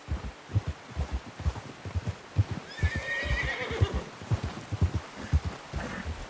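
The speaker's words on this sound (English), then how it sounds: "Get that horse in line, Arthur." Steady hoofbeats clop in rhythm as a horse gives a loud whinnying neigh midway, with a low hum underneath, in the video game Red Dead Redemption 2.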